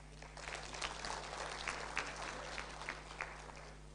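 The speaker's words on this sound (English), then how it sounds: "That is where you're supposed to clap." Scattered audience clapping at a political address in Kenya, fairly faint and steady over a low hum, with no one speaking.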